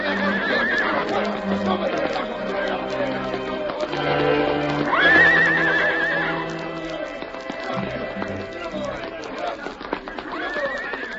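In a radio western drama, horses whinny repeatedly and gallop with clip-clopping hooves amid shouting men and gunfire, all mixed loud and busy throughout.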